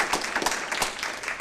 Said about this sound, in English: we got to give the staff a round of applause.